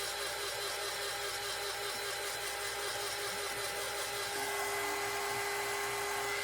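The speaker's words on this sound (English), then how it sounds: "Because this is a heat gun." A heat gun blows steadily to dry a magnet pizza pan craft project, making a loud, continuous whirring hiss that holds unbroken throughout.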